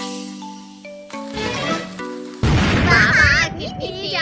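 A rope bomb firecracker goes off in a comic cartoon skit, a sudden loud blast bursting in after tonal music and cartoon voices, followed by a crackling, whistling tail.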